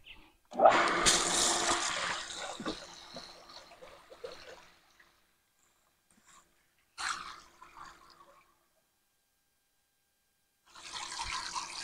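A waterfall pool fountain pump starts up and water gushes and splashes loudly, fading into trickling, then silence, with two later bursts of rushing water.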